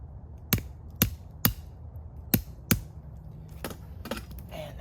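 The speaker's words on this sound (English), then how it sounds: "hammer it in there" A multi-tool hammered into a straight-grained log outdoors: five sharp, close metallic-wooden strikes at uneven intervals, followed by softer knocks.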